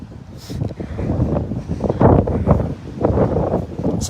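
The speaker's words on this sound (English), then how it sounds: "So this wind can die down, because I want y'all to hear this part." Outdoor wind buffets a microphone, making a low, rough rumble. It rises and falls in gusts across a few seconds, with no speech.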